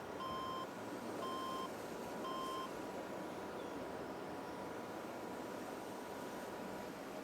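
Three evenly spaced electronic reversing beeps from a truck in Farming Simulator 22, faint and thin, riding over a constant loud rumble of engine and ambient noise that continues after the beeping stops.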